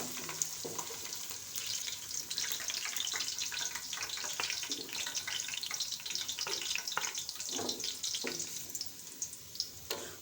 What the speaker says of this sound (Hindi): हाई फ्लेम पे हमने प्याज को गोल्डन ब्राउन कर लेना है।